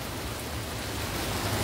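Rain falling outdoors on a plein-air city-scene painting session in Antioch, Illinois, a steady broadband hiss of drops with some wind rumble, constant and close, with no voices.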